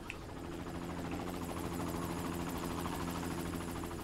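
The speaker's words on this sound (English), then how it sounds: "That was helicopter." Helicopter in the video game The Secret World Legends, a steady rotor thrum and whirring engine drone that holds constant throughout, moderately loud and fairly near, with no speech over it.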